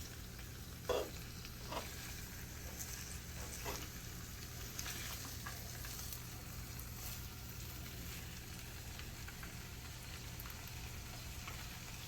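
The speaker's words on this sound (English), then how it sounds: "we're almost done cooking up the bacon here" Wild boar bacon frying in a pan, with a steady close crackling sizzle throughout and a few louder pops near the start, no talking.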